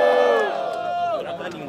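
Rap battle audience at a freestyle competition roaring and shouting for a competitor, a dense crowd wail with sustained raised voices that swell and then taper.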